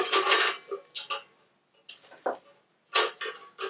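Something loose rattles inside a beekeeping smoker from a starter kit as it is handled, bursts of close metallic clattering and clinking in irregular shakes separated by brief pauses.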